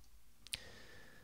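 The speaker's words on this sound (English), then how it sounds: "we've actually got Ableton Live's click coming back" A single sharp metronome click from Ableton Live stands alone against a quiet background, brief and faint, with a softer tick just before it.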